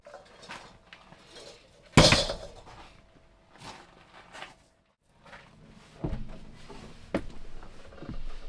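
Dishes being washed inside a school bus on a camping trip, with sparse clinks of plates and cutlery, one loud clatter, and soft handling noises between quiet pauses.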